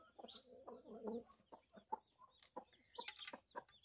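Several hens cluck in short irregular bursts, with sharper high squawks mixed in, close by and moderately loud, as a rooster chases a broody hen.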